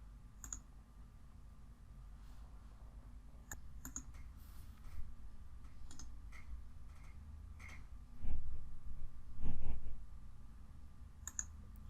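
Sparse, faint computer mouse clicks, a handful of sharp isolated ticks spread irregularly over quiet room tone, including a quick double click early on.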